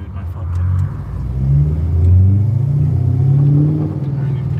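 A Ford Mustang with a brand-new clutch and a solid aftermarket rear suspension drives along, its engine rumbling up and down as it revs. The sound is loud and close, and a voice talks over it.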